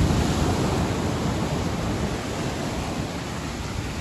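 Stormy sea waves crash against rocks on the coast of Koh Samui, Thailand, a steady, loud, broadband roar of surf mixed with wind buffeting the microphone, with no voices.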